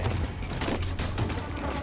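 Rapid gunfire from a shooter in the video game Second Extinction, a dense continuous burst of loud shots that holds steady without a break.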